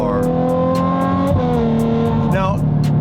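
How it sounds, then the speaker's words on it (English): A Ferrari 12Cilindri (A12) fitted with a Grail exhaust revs loudly and close by, its steady deep engine drone rising and dipping in pitch with throttle blips. "This is the Grail A12, so it has the Grail exhaust on it, and it sounds really good."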